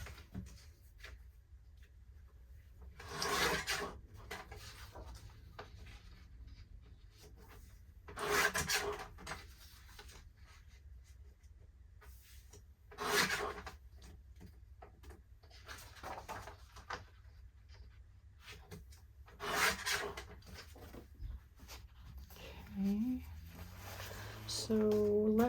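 Paper being trimmed for an envelope junk journal makes several separate short rasping cuts and rubs, faint and close, spaced a few seconds apart over a quiet background.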